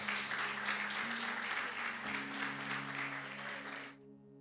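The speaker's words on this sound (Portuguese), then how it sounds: "Você pode aplaudir ao Senhor Jesus essa noite." A church congregation applauding during an evening celebration service, a dense wash of clapping under a sustained musical tone that cuts off abruptly near the end.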